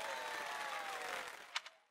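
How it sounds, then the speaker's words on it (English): A video game crowd at the White Heron Cup dance competition in Fire Emblem: Three Houses applauds and cheers at a distance, a steady wash of clapping that fades out near the end. "please give a big round of applause for our talented participants"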